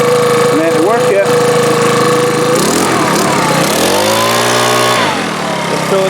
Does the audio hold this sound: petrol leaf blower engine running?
yes